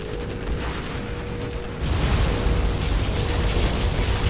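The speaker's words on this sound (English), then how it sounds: "Particle cannon activated." A particle cannon blast in Command & Conquer Generals Zero Hour bursts in partway through, a sudden loud roaring rush of noise that holds steady after a quieter rumbling lead-in.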